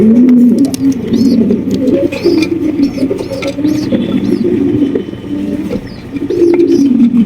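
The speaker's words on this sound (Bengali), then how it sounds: "রয়েছে একজোড়া জায়ান্ট হোমা কবুতর মার্শাল্লাহ দেখতে পাচ্ছেন" A pair of giant homer pigeons coo repeatedly in close, rhythmic bursts, with a few higher chirps from other birds in the background.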